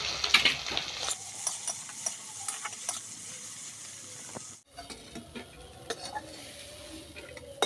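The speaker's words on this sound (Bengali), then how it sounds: "এবার চিংড়ির মধ্যে দিয়ে দেবো একটু হলুদ গুঁড়ো, নুন, দিয়ে দেবো সর্ষের তেল। এবার আমার চিংড়িটা দিয়ে দেবো।" Prawns coated in turmeric and salt frying in mustard oil, a quiet crackling sizzle with scattered spoon taps and pan knocks, briefly cutting out partway, no speech.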